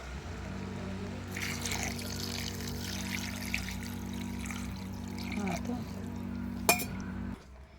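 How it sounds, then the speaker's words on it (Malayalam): Water pours into a cooking pot of chicken curry for several seconds over a steady low hum, with a few metal clinks and one sharp clink near the end. "നമുക്ക് കുറച്ച് വെള്ളം ഒഴിച്ച് വെക്കണം"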